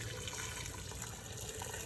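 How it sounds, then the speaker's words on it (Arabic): A thin stream of water runs steadily into a cooking pot while a tomato sauce for pasta is being made, a soft continuous splash and trickle at low volume with no talking. "غادي نزيد واحد شويه الماء"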